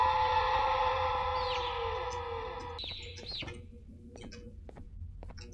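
Bird chirping in the video game Garten of BanBan 3, a few short rising tweets over a steady electronic drone that cuts out midway, followed by faint clicks, with a voice talking underneath.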